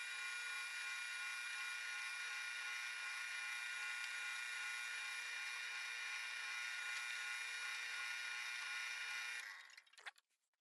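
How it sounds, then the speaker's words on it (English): Drill press boring a series of holes in a wooden bowl-jig piece, a loud steady high-pitched whine running continuously for about nine seconds before spinning down and stopping. "I've decided to drill a series of 3 or so holes along here"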